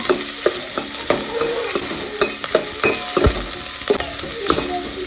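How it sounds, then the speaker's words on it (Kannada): Onions frying in a pan, a steady sizzle punctuated by repeated scraping stir strokes, close and fairly loud with no voices. "ಸ್ವಲ್ಪ ಚಂದ ಕಲರ್ ಚೇಂಜ್ ಆಗುವ ಚೆನ್ನಾಗಿ ಫ್ರೈ ಮಾಡ್ಕೊಳ್ಳುವ."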